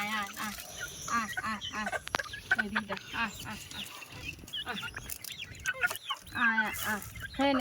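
Several village chickens in the Sundarbans cluck busily nearby in quick, overlapping calls, a lively flock sound that continues throughout.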